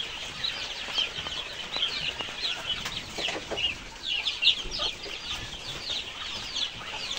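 Caged farm chickens and other fowl cluck and squawk steadily in overlapping calls, fairly close and lively, with no talking over them.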